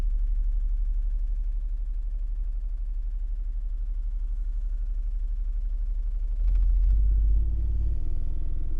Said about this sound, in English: it's just stuff in the boxes shaking.